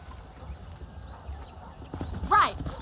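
Hooves clip-clop in a loose steady rhythm from horses in the Red Dead Redemption video game, fairly close, with a brief louder snort or whinny near the end.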